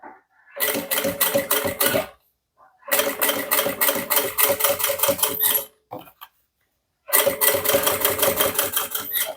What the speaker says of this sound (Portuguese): Então vamos à costura